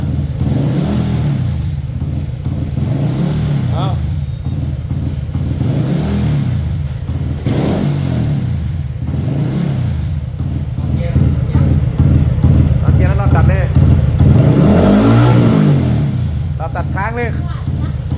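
A small motorcycle engine revs hard in repeated swells up to its rev limiter, each climb peaking and falling back, loud and close, with people talking over it throughout.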